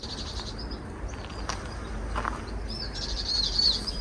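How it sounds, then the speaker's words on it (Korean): Sparrows chirp and twitter in short, high bursts on a hiking trail in Seoul, over a steady low rumble of distant traffic, growing a little busier toward the end. "벌써 자동차 소리보다 참새들 소리가 더 크게 들립니다"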